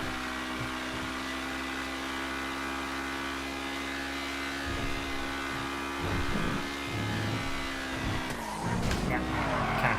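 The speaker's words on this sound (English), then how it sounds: "Race cars." GT-class race cars in GTA 5, including the Zion, FMJ and Rapid GTE, roar past in steady engine drone with tires squealing and skidding briefly near the end, while a voice talks over the track noise.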